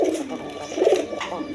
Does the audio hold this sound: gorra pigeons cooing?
yes